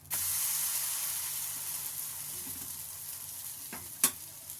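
Vegetable millet adai frying in ghee on a hot pan, a steady close sizzle and hiss throughout, with a short scrape and a sharp clatter near the end as it is flipped; no talk.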